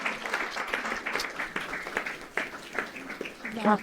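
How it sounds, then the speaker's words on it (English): An audience at a conference claps for a newly named policy chief, scattered applause mixed with voices, then someone begins speaking over the end. "Let's give her a round of applause"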